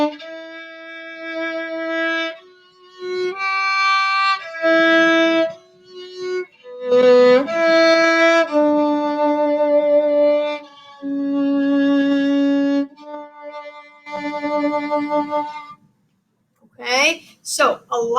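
A solo violin plays a slow, lyrical passage from Massenet's Meditation from Thais, with long sustained notes and a few short gaps between phrases and no accompaniment.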